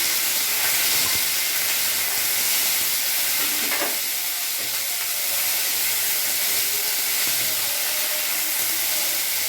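Chopped yardlong beans and green chillies tipped into a hot oiled pan sizzle steadily and loudly, a continuous close hiss with occasional stirring clinks.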